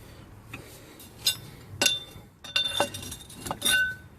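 Sharp metallic clinks and ratcheting taps as a ring spanner works loose a brake caliper bolt on a Ford Falcon BA, several irregular close strikes with short pauses between.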